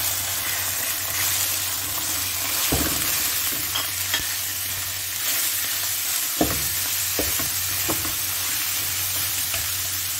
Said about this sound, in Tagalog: Lutuin lang natin at mainit na ang ating kawali.